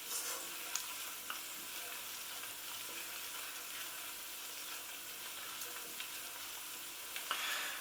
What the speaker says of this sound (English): spices need to be sort of fried off for a couple of minutes